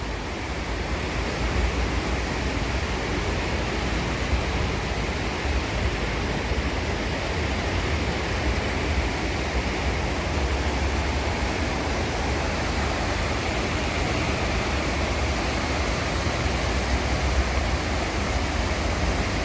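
The Chenab River at Ramban runs in full spate, a steady, loud, unbroken roar of rushing water that stays constant throughout with no voices.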